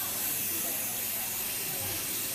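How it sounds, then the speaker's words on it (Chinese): A micro-oxygen water mist sprayer on a facial treatment machine gives off a continuous, even hiss of fine spray. The sound is steady and close throughout. "水微氧喷雾将产品变成小因子的形式"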